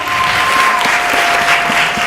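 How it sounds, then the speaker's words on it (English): Audience clapping at a spoken-word poetry competition final, dense continuous applause at close range for the whole stretch. "Can you clap them so they can come a little faster?"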